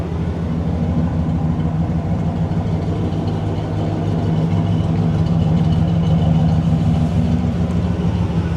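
A 1970 Oldsmobile Cutlass Convertible engine idles steadily with a low, even rumble that holds constant throughout, close by and with no voices.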